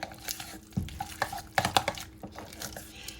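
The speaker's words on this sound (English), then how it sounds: "Okay, I'm just going to stir it up." A spoon stirs caramelized onions through a side dish, giving a few soft scraping and clinking strokes against the pot over about three seconds, close and fairly quiet.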